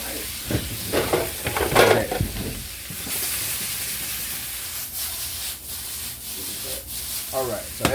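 Beef and broccoli sizzle steadily in a hot pan, a close, continuous frying hiss mixed with rubbing, stirring scrapes, with brief spoken words near the start.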